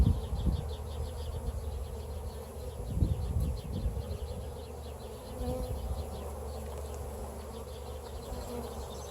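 Honeybees buzz steadily at an open hive during a June inspection, a dense continuous hum close by with a few louder passes near the microphone, no voices.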